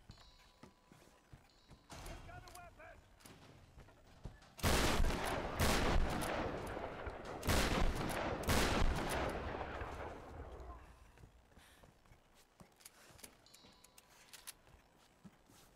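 Gunfire in Tomb Raider Definitive Edition: a quiet lead-in, then a loud stretch of rapid broadband shots and bursts with heavy low booms that tails off into sparse, fainter pops near the end.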